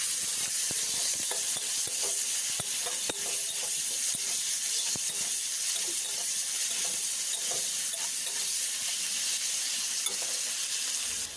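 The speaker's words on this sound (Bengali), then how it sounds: "এবার চিংড়ি মাছটা ভেজে নেব" Prawns frying in hot oil in a wok, with a loud, continuous crackling sizzle and scattered sharp pops holding steady close up for several seconds.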